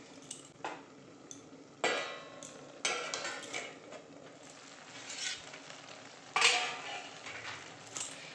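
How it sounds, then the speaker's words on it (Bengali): A metal lid clatters off a cooking pot of ridge gourd, potato and onion curry on a low flame. There are a few sharp clinks over a soft, steady sizzle and some quieter kitchen clatter. "ঢাকনাটা উঠিয়ে নেব।"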